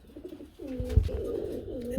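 Pigeons coo at a bustling pigeon market, with low rolling coos repeating over about two seconds amid background crowd noise.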